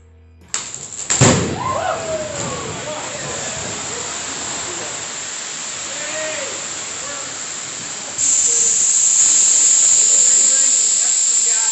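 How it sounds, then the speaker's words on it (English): A life raft self-inflates as compressed gas is released. A sharp thump is followed by a loud, steady rushing hiss that grows stronger partway through, with faint voices in the background. "using the painter cord to release compressed gas,"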